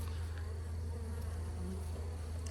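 Honey bees buzz in a steady, dense drone at an open beehive, a close, continuous hum of many insects with no voices over it.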